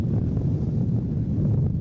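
A strong gust of wind buffets the microphone at an outdoor sports match, a loud, continuous low rumbling roar that swells and dips without pause.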